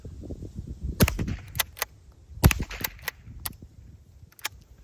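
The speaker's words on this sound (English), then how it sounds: "I'm shooting ammo I picked up off the ground out here." Browning lever-action .22 rifle firing salvaged ammunition outdoors: sharp, close cracks spaced a second or so apart, a few louder reports among lighter pops, each fading quickly.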